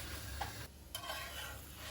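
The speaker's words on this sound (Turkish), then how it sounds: "Kızartıyoruz." Soft sizzling of dough frying in oil, close and steady, with a brief scrape of stirring and a short quiet gap.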